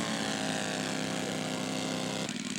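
A scale model airplane making an overshoot fly-past, its engine a loud, steady buzzing drone with a strong harmonic whine that shifts in pitch as it passes close by, no voices.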